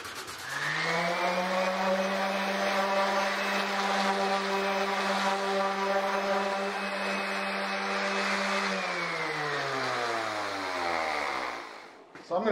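Random orbital sander running steadily on an aircraft fuel tank cover for an experimental airplane build, a loud continuous whirring drone with harmonic whine that holds level for about nine seconds, then winds down as the motor slows and stops.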